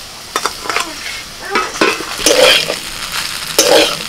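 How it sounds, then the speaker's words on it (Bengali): Pasta tossed with fried vegetables in a hot pan: intermittent spatula scrapes and clinks over a soft sizzle, close and fairly loud, with no voices. "পাস্তার সাথে সবজিটাকে ভালো করে মিশিয়ে দিচ্ছি"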